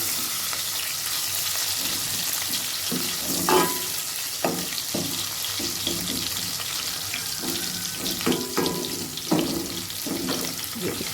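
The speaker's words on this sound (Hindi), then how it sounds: "अब इसको हल्का सा फ्राई कर लेते हैं" A finely chopped ingredient fries lightly in a pan while a mooli, kheera and aloo bhujia is being made: a constant loud sizzle with repeated stirring scrapes and knocks throughout.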